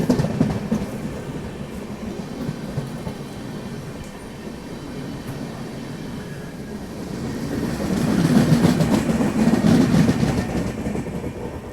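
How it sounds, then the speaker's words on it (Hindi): The Howrah Rajdhani train rolls into the station with a continuous low rumble of wheels on rails, swelling louder toward the end as the carriages pass close by, with faint squeals and clacks. "हावड़ा राजधानी जो है वो आ रही है"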